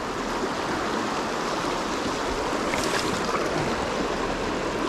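Rapids on the Nantahala River rush in a steady, close, full-bodied roar of churning water that holds constant with no talk.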